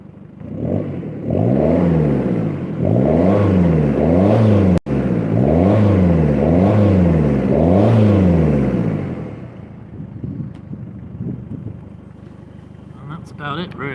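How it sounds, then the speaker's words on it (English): Ford Fiesta ZS/ST engine with a stainless steel exhaust, revved up and down in a steady series of rises and falls for about nine seconds, then settling to idle. "I'll give a few revs"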